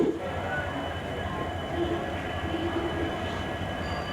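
The Hassan–Solapur SuperFast Express rumbles steadily along the rails, a continuous close clatter and roar, heard from on board without pause.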